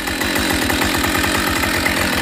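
A Husqvarna 572XP chainsaw runs at steady high revs, a loud close buzzing drone with rapid regular pulsing, continuous and alone.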